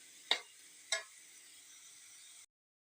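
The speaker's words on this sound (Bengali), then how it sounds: "এবার এটা ভালো করে নাড়াচাড়া করে আমি শুকনো শুকনো করে একদম ভেজে নেবো" Bottle gourd with egg and chili powder is stirred in a frying pan: two sharp scrapes are followed by a steady close sizzle that cuts off abruptly.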